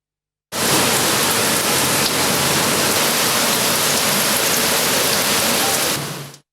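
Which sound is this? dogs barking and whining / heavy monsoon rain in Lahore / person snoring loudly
heavy monsoon rain in Lahore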